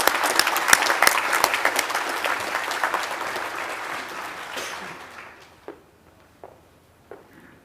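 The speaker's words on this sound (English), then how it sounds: "let's give her a nice round of applause" Applause from an awards-ceremony audience for an absent scholarship recipient, dense clapping that thins and fades after about five seconds, leaving a few scattered claps near the end.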